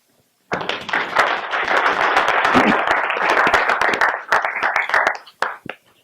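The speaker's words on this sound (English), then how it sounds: "we give them a round of applause" A room audience at a university lecture bursts into applause after a short silence, dense crisp clapping close by for several seconds before tapering into a few scattered final claps.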